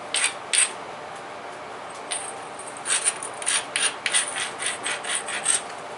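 Dacite being knapped into a preform, giving sharp, brief stone clicks and scraping taps in irregular bursts, close and fairly quiet, with no talking.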